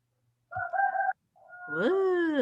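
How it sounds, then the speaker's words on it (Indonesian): A rooster crows at midday, a short two-part call followed by a longer rising and falling crow, clear and fairly close with quiet gaps between. "ada bunyi ayam siang-siang"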